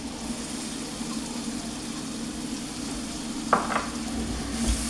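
Chopped onion sautéing over medium-low heat in a pan for chicken in mushroom sauce, a soft steady sizzle throughout with a brief scrape of stirring partway through.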